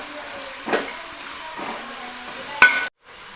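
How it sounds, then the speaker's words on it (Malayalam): Salted food frying in a pan is stirred, giving a low steady sizzle with a few scraping stirs and a sharper clack near the end before the sound cuts out abruptly; no one speaks. "നമുക്കിത് ഇത്തിരി നേരം ഒന്ന് ഇളക്കി കൊടുക്കാം കേട്ടോ"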